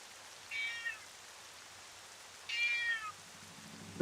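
Two separate cat meows from Twilight Princess, each about half a second long with a bright harmonic cry, set over a faint low rain-like hiss, with a quiet gap between them.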